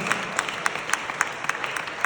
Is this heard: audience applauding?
yes